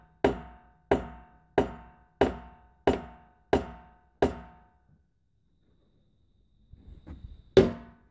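Seven evenly spaced hammer blows ring out on a 25-inch steel split rim of a loader tire, each sharp metallic strike decaying quickly, followed by a pause, some faint clatter, and one final hard hit.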